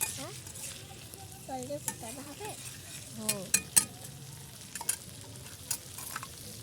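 Vegetarian soybean curry sautéing in a home kitchen pan, a steady low sizzle with a spoon scraping and stirring through it and a few sharp clinks of utensil on metal, close by and moderately loud, with brief quiet talk.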